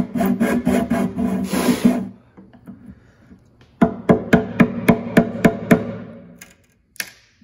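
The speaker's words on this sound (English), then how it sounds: "Now I'm going to take my chisel and turn it upside down just start working my way forward" A chisel works wood on an acoustic guitar end wedge: a burst of rapid scraping strokes, a quieter pause, then a run of sharp, evenly spaced tapping cuts close up, and one last isolated knock.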